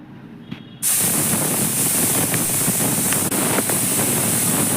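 A pressure cooker of soya pulav on the stove lets out a sudden loud, continuous hissing steam whistle after a short quiet start, sustained steadily to the end.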